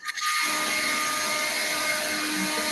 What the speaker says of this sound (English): using the leaf blower outside